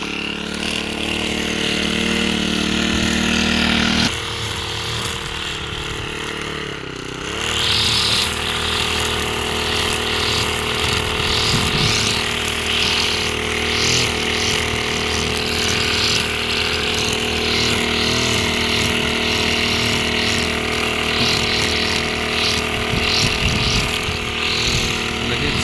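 A petrol string trimmer cuts garden grass with its nylon line, its engine whining steadily and loud for the whole stretch, with a brief dip in pitch early on before it climbs back to full speed.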